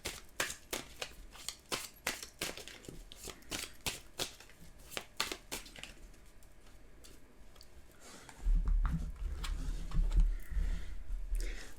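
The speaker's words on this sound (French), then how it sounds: "on va tirer quelques cartes pour voir vous de votre côté" A deck of tarot cards is shuffled and dealt out, with quick crisp riffling clicks in steady bursts, followed near the end by heavier, lower handling thumps. Close by and without voices.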